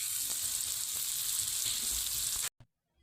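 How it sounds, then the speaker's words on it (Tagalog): Buttered shrimp with garlic sizzling as it is sautéed in a hot pan, a bright steady hiss for a couple of seconds before cutting off abruptly, with a faint clink after. "Pag uwi ko, diretso gisa ng buttered shrimp"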